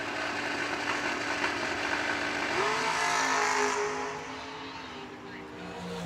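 At a drag racing event, a drag race car's engine roars loudly and steadily as it launches off a trans brake release. The engine note climbs, then eases off and fades as the car rolls away.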